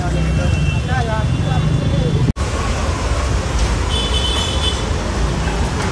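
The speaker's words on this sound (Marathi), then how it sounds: "ट्रॅफिक लागले, ट्रॅफिक." Busy road traffic in Mumbai, near Lalbaug and Parel, with a dense steady roar of engines and short car horn toots cutting through, close and loud, and voices talking over the traffic.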